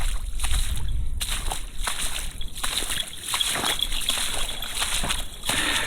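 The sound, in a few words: dog sloshing through water puddles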